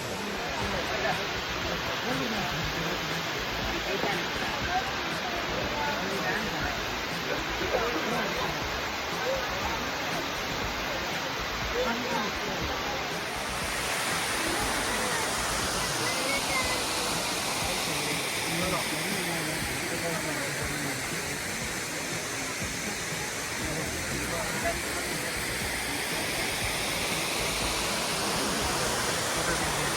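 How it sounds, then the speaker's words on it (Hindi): Rushing water of Abbey Falls in Coorg during the monsoon, a steady broadband roar that holds loud and unbroken throughout, with a thin high whine across the first half. "पानी की आवाज़ आपको सुनाई दे रही होगी बैकग्राउंड में"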